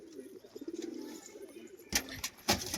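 Pigeons of a big red Duma breed coo softly in a rhythmic, throaty series, followed by a couple of sharp clattering knocks nearby.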